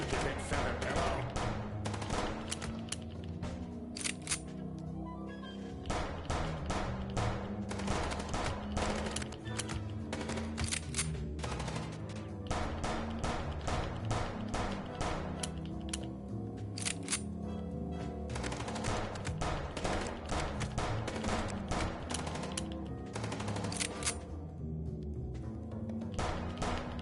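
Rapid gunfire rattles through a car chase in the game Chicken Police, dense bursts of shots repeating in quick volleys over engine and background noise for the whole stretch.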